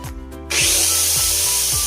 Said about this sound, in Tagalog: butasin na po natin sa pamamagitan ng barena ang butas ng ating locking mechanism ng ating doorknob